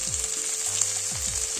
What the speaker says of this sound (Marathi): तेल तापायला ठेवलेलं आहे। आता याच्यात टाकूया मसाले।